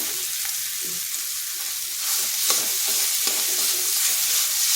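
Boiled potato and softened tomato are stirred in a sizzling frying pan, a close continuous hiss with several soft scraping and clacking strokes of the spoon, and nobody talking.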